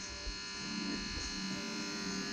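Welding on rubber-coated steel trailer parts gives a close, continuous electric buzz with a steady hum and a faint crackle throughout.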